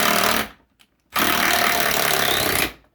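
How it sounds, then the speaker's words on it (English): A Bauer 1/2 inch impact driver hammers lag bolts in two loud, sustained bursts of rapid rattling impacts, separated by a brief pause, close to the listener. "1/2 inch is bringing these right in and out, no issue."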